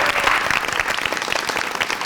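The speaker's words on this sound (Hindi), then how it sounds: "तालियां बजाओ।" A studio audience on a talk show applauds in a short, dense burst of steady clapping that continues throughout.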